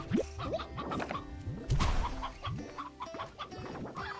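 Chickens in the video game Slime Rancher 2 cluck and squawk, with many overlapping calls and one louder burst partway through, forming a busy, continuous flock sound.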